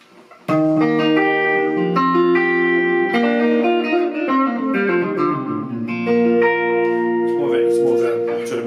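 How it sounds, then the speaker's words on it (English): A clean electric guitar plays a slow phrase of single notes and chords, each trailing into a wide, washy wash of repeating echoes. "And then you've got the more ambient delay."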